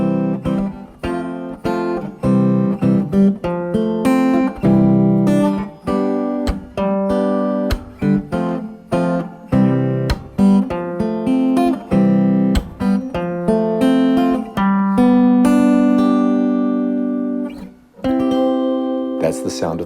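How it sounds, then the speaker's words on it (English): Chords played as a progression from the dominant five chord resolving to the one chord, with sustained, harmonically rich tones and steady attacks, loud and close with no talking. "that's the sound of it going from 5 to 1."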